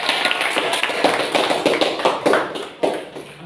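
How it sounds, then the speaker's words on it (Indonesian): A classroom group applauds a student team after a presentation, producing a steady patter of many hands clapping at close range for a few seconds before it tapers off. "Berikan aplaus untuk"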